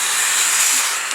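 Steady, loud hiss of a steamer blowing onto corset seams, continuous and close for the whole stretch with no talking over it.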